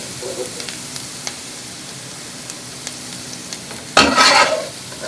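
Quiet background with a few faint clicks, then a sudden burst of loud sizzling as cabbage hits a hot pan of ghee and sautés close by.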